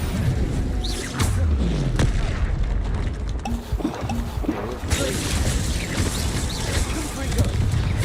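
A fire spell is cast in the Hogwarts Legacy video game, giving dense whooshing, booming effects over busy game audio, with a voice talking over parts of it.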